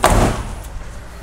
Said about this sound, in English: All right, let's shut our door and see what we got.